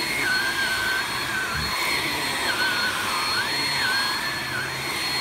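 A Hart HPVSV50 cordless 20V stick vacuum runs steadily up close, a continuous loud motor whine with a wavering higher tone and no talking.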